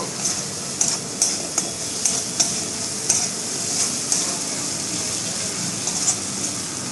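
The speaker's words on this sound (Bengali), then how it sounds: "জিরেটাও দিয়ে দিচ্ছি এর মধ্যে ভালো করে মশলাগুলো আরেকবার ভেজে নেব" Spices and roasted ground cumin sizzle in a pan for khichuri as a spoon stirs them, giving steady frying hiss broken by regular clicking scrapes, close and fairly loud with no speech.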